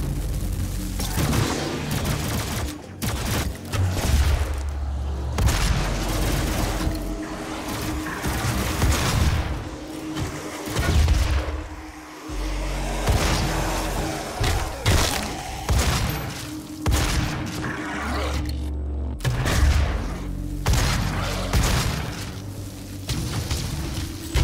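Dense, loud gunfire in Doom (2016) keeps up almost without pause, with rapid shots, heavy booms and shattering blasts mixed with game combat noise.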